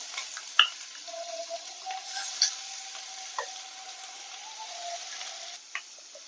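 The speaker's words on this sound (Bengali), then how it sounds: "লবণটা দিয়ে পেঁয়াজটাকে আমি হালকা একটু ভাজবো" Chopped onion with salt fries lightly in hot oil in a wok with dried red chilli and bay leaf, a soft steady sizzle with a few faint clicks and stirring scrapes, close by.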